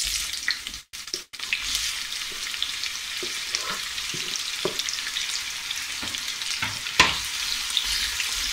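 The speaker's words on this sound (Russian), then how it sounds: "После того, как масло разогрелось, кинем лук." Steady hiss and crackle of onion frying in hot oil, with a few brief clicks and stirring knocks, no voices.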